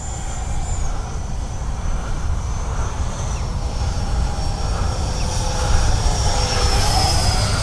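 Radio-controlled 50mm L-39 Albatros model jet making a low pass at a flying field, its ducted-fan whine roaring steadily and swelling louder as it nears.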